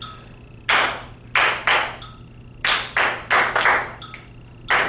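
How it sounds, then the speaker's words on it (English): Group of people clapping together in short, sharp bursts, mostly single and double claps with uneven gaps, close and clear over a faint hum. "Let's see what you know how to clap twice."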